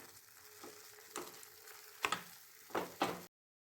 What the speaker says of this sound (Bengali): এবার আমি খোয়া ক্ষীরটাকে গলিয়ে নেব দুধের সাথে